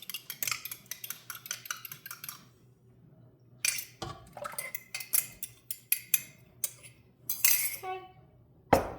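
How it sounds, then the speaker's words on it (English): Eggs are whisked in a bowl for a German pancake batter, with a fast run of bright metallic clicks, a short pause, then more uneven bursts of whisk taps against the bowl, close and clear. "to quickly whisk them."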